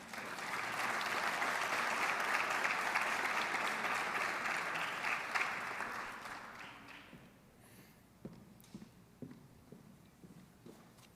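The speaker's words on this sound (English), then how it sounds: "let us once again have one more round of applause for all of our service men and women" Sustained audience applause at an armed services awards ceremony, a loud steady wash of clapping that fades out after several seconds, leaving scattered claps and room noise.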